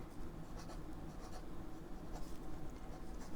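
A 1940 Sheaffer Balance fountain pen with a fine 14 karat gold nib scratches softly across Clairefontaine 90 GSM paper, a faint, close, continuous scribbling with light strokes.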